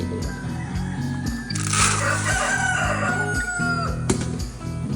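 Chickens crowing and clucking over a steady low rumble, with a loud burst of crowing midway; busy and close.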